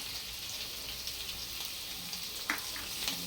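Potatoes for sabudana khichdi sautéing and sizzling in a pan, a steady low frying hiss throughout, close, with a couple of brief stirring clinks near the end and no talk.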